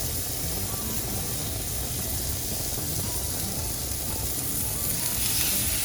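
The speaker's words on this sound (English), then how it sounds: "we're gonna use a flat top" Steady, loud sizzling fills the whole stretch, a constant hiss of a burger patty frying on a hot flat-top griddle with no pauses.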